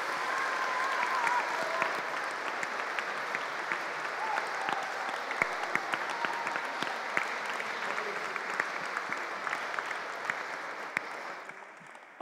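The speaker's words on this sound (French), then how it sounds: "On peut applaudir tous ces bénévoles" Congregation applauding parish volunteers at Sunday Mass, a long sustained round of moderate, even clapping from a large crowd, with occasional sharper individual claps, tapering slightly at the end.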